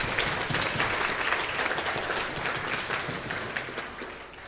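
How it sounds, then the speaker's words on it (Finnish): An audience at a Finnish youth-themed seminar gives the working group a sustained round of applause. The dense clapping is moderately loud at first and fades slightly toward the end, with no talk over it. "annetaan raikuvat aplodit näille työryhmälle"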